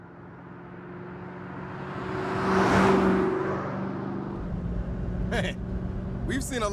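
Car engine in the Saints Row video game rising as the vehicle drives off, swelling to a peak then settling into a steady motor drone, with a few short sharp noises near the end.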